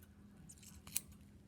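Scissors make a single short, faint snip close by while cutting through pig heart tissue during a dissection, with a quiet background.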